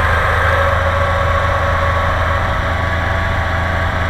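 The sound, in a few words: engine revving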